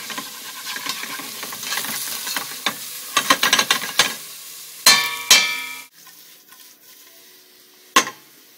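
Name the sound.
curd frying in ghee in a pan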